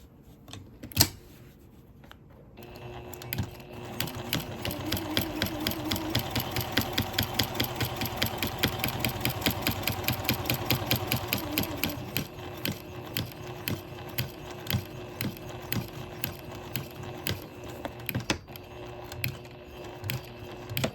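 A sewing machine stitches down a quilt binding, running in a steady rapid mechanical chatter of needle strokes for most of the stretch, then slowing into separate spaced stitches near the end, close and moderately loud with no talk.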